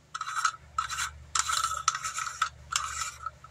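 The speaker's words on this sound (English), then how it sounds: "I think you're supposed to unscrew this." Repeated short scraping, grinding bursts of a threaded plastic part being twisted loose on a cheap online-bought product, about five close, crisp strokes in an otherwise quiet setting.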